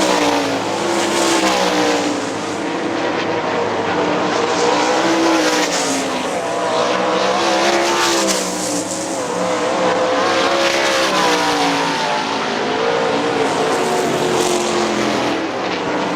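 Sprint race cars roar around Hartford Speedway Park in a loud, continuous engine drone, pitch rising and falling as the pack passes, with no talk over it.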